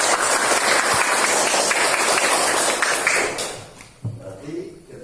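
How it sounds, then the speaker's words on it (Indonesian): A classroom of students breaks into loud, dense clapping that holds for about three seconds, then fades out, followed by a teacher's voice speaking. "Tepuk tangan untuk siapa?"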